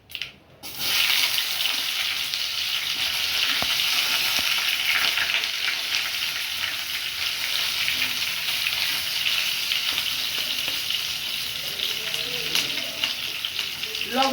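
Mango pieces hit a hot pan for a sour mango chutney and burst into loud, steady sizzling that holds for the full stretch, with faint stirring near the end.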